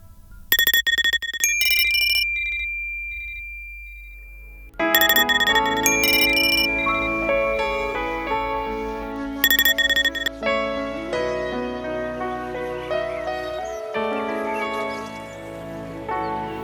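A bright electronic ringtone plays a repeating melodic chime pattern, loud and continuous, with layered musical tones and no speech.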